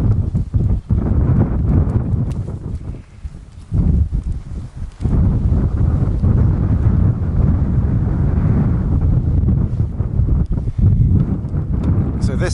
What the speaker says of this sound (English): It's very windy, so I hope you're picking up my voice.